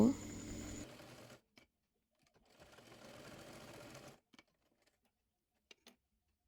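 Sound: sewing machine stitching maxi dress

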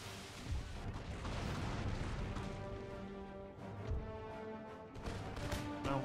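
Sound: rockets launching in Empire Total War video game

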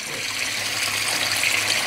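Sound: aquaponics water flowing down into tank

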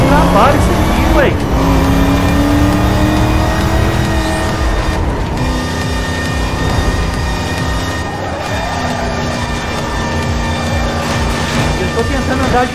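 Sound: 1969 Dodge Charger RT engine revving in a racing video game

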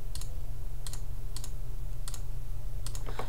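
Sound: computer mouse clicks while holding shift key

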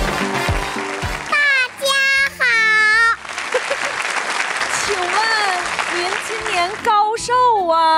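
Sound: audience applause

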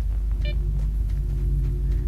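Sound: storm rumbling in video game S.T.A.L.K.E.R.: Shadow of Chernobyl

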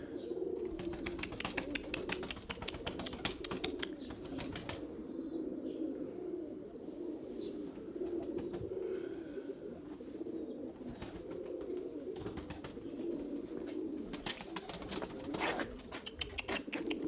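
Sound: purebred Erzurum White pigeons cooing and flapping

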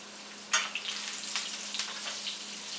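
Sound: tuna searing in a hot pan

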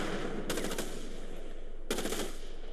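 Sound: gunfire from video game Starship Troopers: Terran Command

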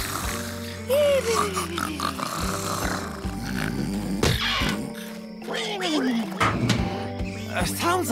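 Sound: pig oinking and grunting in a cartoon pig pen

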